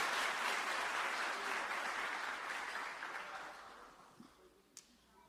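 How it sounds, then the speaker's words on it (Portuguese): A church congregation applauds together, a soft, distant wash of clapping that swells at first and then gradually fades away to near silence, with a couple of stray claps at the end. "Dê um aplauso a Jesus, faça isso,"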